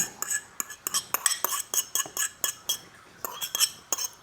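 Spatula or spoon scraping egg yolks down the sides of a mixing bowl while making pineapple bun dough, a series of short, close clinking scrapes in an irregular rhythm with no talking.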